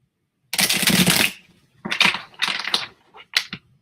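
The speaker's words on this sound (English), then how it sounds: "Everything's balanced when I shuffled. It sounds so funny" Tarot cards are shuffled in several separate bursts: a long, loud riffle followed by three shorter clattering shuffles with brief silent gaps between them, all close up.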